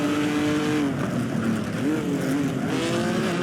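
Vintage Ferrari Grand Prix race cars from 1950 roar past at the Pau Grand Prix, loud throaty engines rising and falling in pitch as they sweep by close, one after another, over a continuous racing din.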